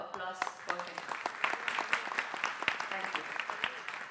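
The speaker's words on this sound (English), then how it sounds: "So I request all of you to have a round of applause for him." Audience applause at the inaugural session of a global summit on diamond open access, a moderate patter of clapping with scattered sharp claps, mixed with some voices and background talk.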